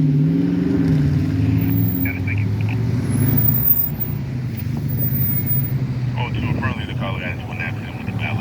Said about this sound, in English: Like this street here has an abundance of cars coming out of there